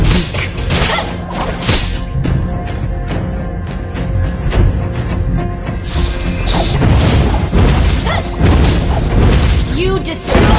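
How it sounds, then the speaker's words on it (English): A turret is destroyed in Mobile Legends during a Hanabi match: loud crashing booms, thuds and whooshes pile up in a dense battle din, with a voice speaking over the chaos. "You destroy the turret!"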